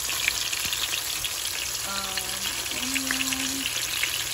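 Garlic and tomato sauté for pinakbet with a steady, close sizzle that holds through the whole stretch, and a brief faint tonal hum drifts in partway through.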